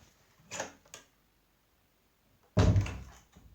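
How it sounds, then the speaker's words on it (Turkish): A door is handled with a couple of light knocks and rattles, followed after a pause by one solid, heavy thunk as it shuts close by. A softer rattle comes after. "Kapıyı kapattım arkadaşlar."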